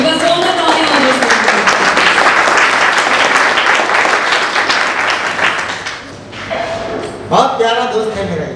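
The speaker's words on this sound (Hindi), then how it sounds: "एक बार जोरदार तालियां।" An audience bursts into loud, sustained applause close by, with thumps and voices talking over the clapping, which fades briefly before picking up again.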